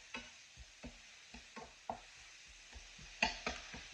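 Onions softening in a pan over medium-high heat for smothered patties: a faint, soft sizzle broken by spatula stirs and scrapes at irregular intervals, with no talking.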